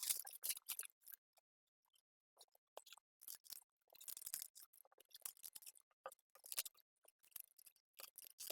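Scissors cut through folded dress fabric in a quiet room, close, crisp snips and slicing crunches coming in short irregular bursts with small pauses between them.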